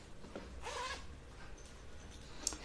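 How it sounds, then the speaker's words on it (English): A zipper at the neck of a sweatshirt is pulled open, heard as a short, quiet rasping zip in a hushed room, followed by faint small clicks. "when you're opening up your zipper neck"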